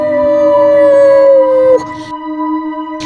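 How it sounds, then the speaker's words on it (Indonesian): A wolf howls in a Little Red Riding Hood story, one long, loud, sustained howl that slides slightly downward and breaks off, then fades into a quieter tail with no talking. "Akhirnya serigala pun mengamuk dan melolong."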